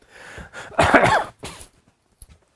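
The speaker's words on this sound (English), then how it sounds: "I've had this cough now for weeks" A few harsh coughs in a short burst, close and fairly loud, followed by a quieter breath or throat noise.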